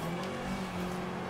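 A car engine in Forza Horizon 2 under light throttle out of a corner, a steady droning hum with a slight rise in pitch, close and continuous throughout.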